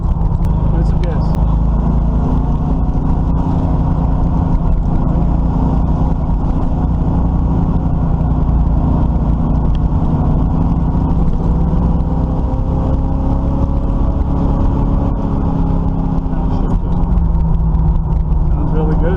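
Chevrolet Camaro engine with a newly installed carburetor runs steadily close up, with low rumbling and slight swells as the throttle is opened, while people talk over it.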